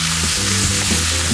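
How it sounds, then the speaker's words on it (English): Ground sausage meat browns in a pan for sausage and peppers, with no onions or garlic added. It gives a loud, steady, close sizzle, faint stirring scrapes, and no voices. "We are sauteing this meat so we can make sausage and pepper."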